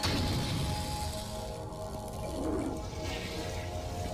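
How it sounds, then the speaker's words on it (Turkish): A toilet flushes in a long, loud rushing swirl of water from the animated Skibidi Toilet series, a single sustained flush heard alone. "en kolay yolu sifonu çekmek"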